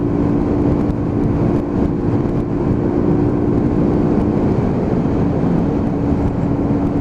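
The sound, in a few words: Hyosung GV125 125cc cruiser motorcycle riding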